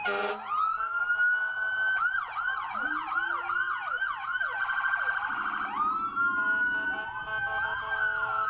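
An ambulance from a fire department at a St. Patrick's Day parade sounds its siren loudly, with a steady wail shifting into rapid yelping sweeps and a short horn blast.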